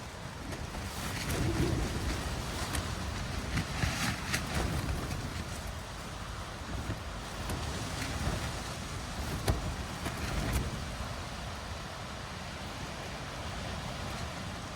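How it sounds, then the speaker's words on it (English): Gusty wind buffets a tent outdoors at roughly 25 km/h, a steady rushing roar rising and falling with occasional sharp snaps of flapping fabric, soft to moderate in level. "I can hear outside now it's probably gusting around about 25 kilometers"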